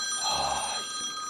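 A mobile phone rings nearby with a bright, sustained electronic trill, clear and alone over quiet background.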